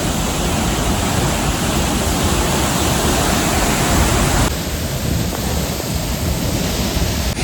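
Rushing river water at a swimming spot near Nampatam in North Sikkim, a steady, loud broadband roar like a stream or small waterfall that holds throughout, easing slightly in level partway through, with no voices.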